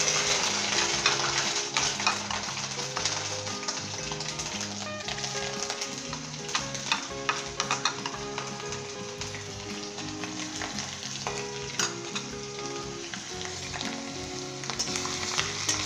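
Ginger and garlic paste, half a teaspoon each, sizzling steadily in a pan for a stir-fried carrot chicken dish, a loud continuous fry with occasional stirring scrapes and no voices.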